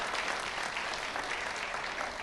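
Audience clapping at a fall university convocation as graduates receive Master of Education degrees; a continuous, even wash of applause from a large seated crowd, steady and uninterrupted throughout.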